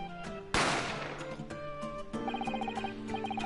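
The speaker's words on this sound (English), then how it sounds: "A gunshot rang out" A single loud gunshot effect from The Great Ace Attorney video game cracks sharply and decays over about half a second, then game music with bright repeating notes continues.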